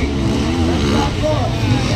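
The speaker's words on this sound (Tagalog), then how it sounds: "But Michelin Rivera riding KX" A Kawasaki KX 450 motocross motorcycle engine roars steadily and close during an expert final race in Maramag, Bukidnon, with excited commentary talking over the engine.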